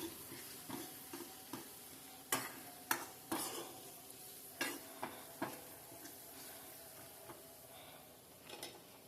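Onions for parippu curry fry in a pan with a soft steady sizzle, broken by sharp irregular scrapes and taps of a spoon stirring them, heard close.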